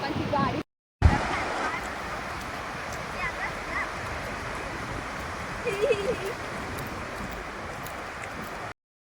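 Continuous sea waves wash steadily onto Mandva Beach in Maharashtra, a broad, even surf roar with brief soft swells, interrupted by a short gap near the start.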